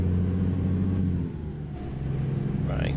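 Cummins L10 engine in a Kenworth K100E truck in American Truck Simulator, a close, steady mid-low diesel drone that dips briefly as if shifting, then settles back, with a rising whine near the end.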